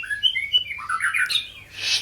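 A long-tailed songbird offered for sale chirps in a rapid run of bright, high calls and tweets, close and fairly loud, ending in a brief harsher squawk.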